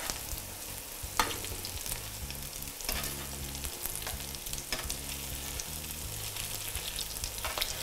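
Zucchini, feta, dill and mint fritters frying in hot oil, a continuous crackling sizzle with occasional pops, close and steady with no voice.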